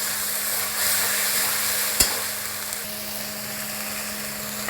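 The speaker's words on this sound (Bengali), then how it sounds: "এটাকে ভালো করে মশলাটাকে ভেজে নেব" Spice paste with chilli powder fries in a pan for Bengali prawn poppy-seed curry, giving a steady close sizzle with a single sharp utensil knock midway and faint stirring scrapes.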